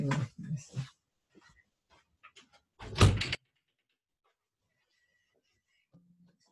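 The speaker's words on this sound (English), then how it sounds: "I'm just going to shut this door." A door is pushed shut indoors with one solid thump, heard after some faint knocks and movement, then quiet.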